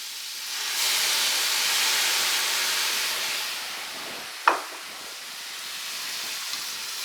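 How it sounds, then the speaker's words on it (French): Cider vinegar hits a hot pan of celery and bacon, giving a loud steady sizzle and steam hiss that eases off, broken by one sharp clink midway. "On va aller déglacer les sucres."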